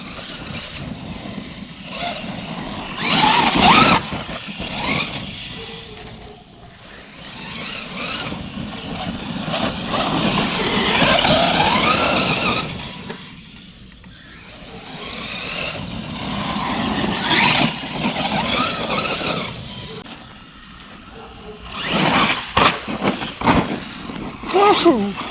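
An Arrma Kraton RC car with a Rocket 6S brushless motor whines and surges through several bursts of speed, with people talking over the motor noise throughout.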